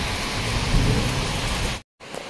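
Heavy rain pours steadily over a jungle resort in the mountains during flash flooding, with thunder rumbling through the loud, dense downpour before a sudden brief cutoff.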